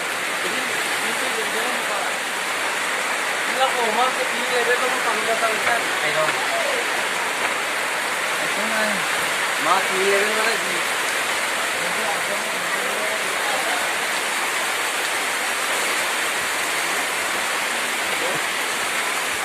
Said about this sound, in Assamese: বৰষুণ যেনেকৈ পানীৰ নিচিনা বৈ আছে চাওক